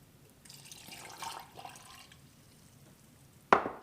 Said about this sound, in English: Going to be adding about 1/2 cup of water.